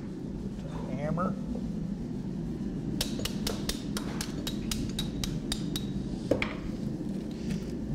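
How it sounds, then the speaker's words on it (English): In a knifemaking shop working Damascus steel, a hammer strikes metal in a quick run of about a dozen ringing blows over steady shop noise, with a person talking. "the hammer."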